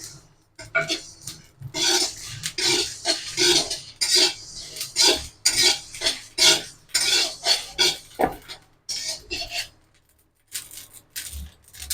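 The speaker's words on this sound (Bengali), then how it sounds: "এবার আমি গোটা মশলাগুলো সব দিয়ে দেবো একসাথে, দিয়ে একটু ভেজে নেব।" Whole spices being dry-fried and stirred in a pan while making raw mango and jaggery pickle: repeated metallic scrapes and clinks of a utensil against the pan in an irregular rhythm, close and fairly loud, with no talking.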